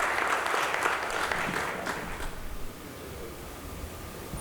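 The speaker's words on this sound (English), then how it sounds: "Mr. Percy Kavina, please give him a big round of applause." Audience applause at a legal seminar, a dense wash of many hands clapping that stays steady at first and then thins and fades slightly toward the end, with no voices over it.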